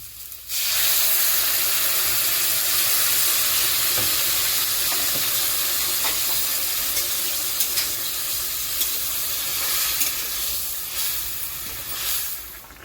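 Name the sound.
water boiling in omelette curry gravy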